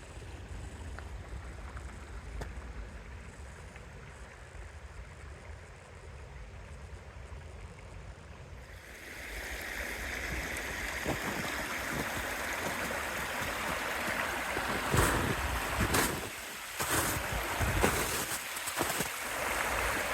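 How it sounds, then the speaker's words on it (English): Water pours and rushes into a small holding pond on a hiking trail, a steady broadband gushing that grows louder and fuller partway through, with gusty wind buffeting the microphone; no talk. "I don't know if I've ever seen water pouring in here like that."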